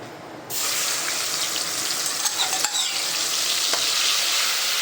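A spice paste of ginger, green chilies, turmeric and coriander-cumin hits hot oil for a boiled pamira vegetable dish, bursting into a loud, steady close-up sizzle that holds with faint stirring scrapes.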